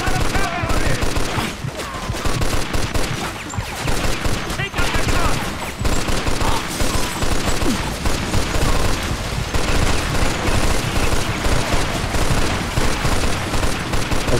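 Heavy mounted gun on a balcony hammering out sustained automatic fire in Mafia 2, dense bursts with booming impacts filling the whole stretch, loud and close, with a voice talking briefly over it.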